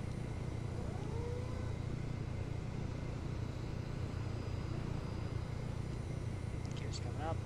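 A Blackfish VTOL aircraft lifting off in the game Arma 3, a steady low engine drone heard from inside the cockpit under near-constant radio chatter between players.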